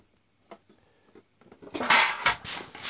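Pots, pans and cooking utensils clatter and clink as someone rummages through a camping gear bag, a few faint knocks at first building into louder metallic rattling near the end.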